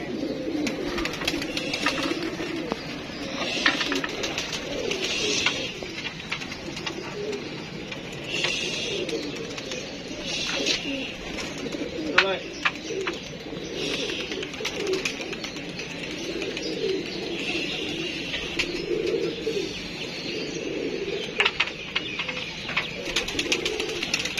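Pigeons kept by a hobby breeder coo on and off in low murmuring bursts, with scattered chirps and small clicks and rustles around a loft.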